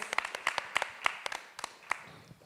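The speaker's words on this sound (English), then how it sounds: "Everyone give her a round of applause, please" Sparse, fairly faint clapping from a small audience welcoming a guest joining an online fashion sustainability event, a dozen or so scattered distinct claps with no steady roar.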